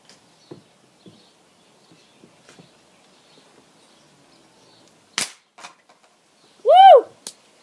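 An air rifle fires at a purple can, producing one sharp, close crack against near silence, preceded by faint clicks and followed by a brief whooping voice.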